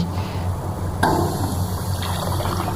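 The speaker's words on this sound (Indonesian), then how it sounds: "Coba urinalnya masih berfungsi nggak, ada airnya nggak ya ini." Water runs steadily in an old urinal in an abandoned, deserted mall in Semarang, a continuous close trickle and hiss with a slight surge partway through and no talk.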